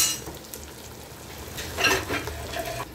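Beef sizzles in a pan with garlic and onions browning, a steady close frying hiss with occasional stirring scrapes and utensil clinks.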